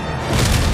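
Thunder from a lightning strike in the Ghost of Tsushima video game, a low rumbling boom that swells after a quiet start and rolls on steadily, loud and broad.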